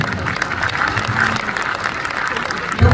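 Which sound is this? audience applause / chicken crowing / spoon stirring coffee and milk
audience applause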